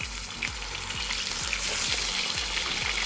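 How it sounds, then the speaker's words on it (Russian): Pork ribs frying in oil in a kazan over high heat, a dense, loud, close sizzle with a low rhythmic thump repeating roughly every half second. "И обжариваем вторую партию."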